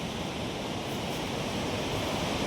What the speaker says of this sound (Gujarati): ખતરનાક આવી રહ્યો છે પાણીનો અવાજ